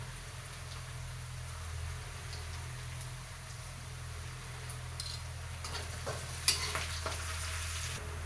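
Onion and fresh curry leaves sautéing in a pan, a steady soft sizzle and crackle throughout, with a few light clinks of a spoon against the pan near the end.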